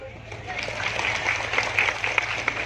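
Brief burst of crowd clapping at an outdoor religious gathering on a school field, a few seconds of scattered hand claps with a voice talking over them.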